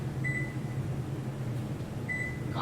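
Buttons pressed on an oven timer give two short, clear electronic beeps about two seconds apart over a low steady kitchen hum.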